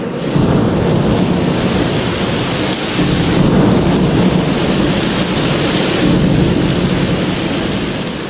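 Heavy rain pours with gusting wind and deep rumbling thunder over Gandhinagar in a loud, continuous roar.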